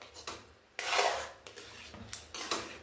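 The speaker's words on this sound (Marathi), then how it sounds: "तर इथं मी बारीक गॅसवर हे मिक्स करून घेते" A spoon scrapes and rubs through dry semolina (rava) in a pan over low heat while making upma, giving soft gritty strokes in irregular bursts, close and fairly quiet.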